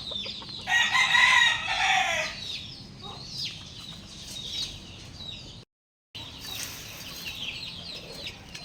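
Young gamecock stags, about eight months old, crow and cluck at a rooster farm. A loud crow comes first, then softer clucking and more calls, with a short gap near the end.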